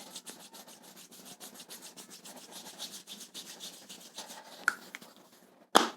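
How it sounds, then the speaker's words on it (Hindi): Hands rubbing briskly along the calf muscle in a self-massage, a rapid steady run of soft dry swishing strokes, close and fairly quiet, ending with a couple of sharper brushes and a thump. "ऐसे इसको हल्के से रब करना है"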